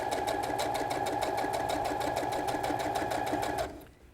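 A sewing machine runs forward in a regular straight stitch, a fast even rattle of needle strokes held steady for about three and a half seconds before it stops abruptly.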